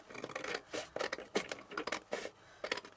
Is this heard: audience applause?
no